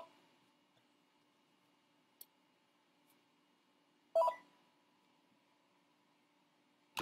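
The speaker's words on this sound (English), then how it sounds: "I'm getting urgent phone calls" An office telephone gives a few short electronic beeps and tones for incoming urgent calls, with a faint tick early on, a louder burst near the middle and another at the end, against a quiet hum.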